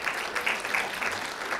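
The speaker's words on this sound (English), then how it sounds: "So can we give him a big round of applause for that?" A crowd at a startup-week talk gives a short round of applause, steady mid-volume clapping from many people throughout.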